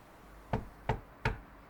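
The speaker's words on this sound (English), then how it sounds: "I can do nothing other than knock." Three firm knocks on a door, evenly spaced and close by, sharp and distinct against a quiet background with no talking.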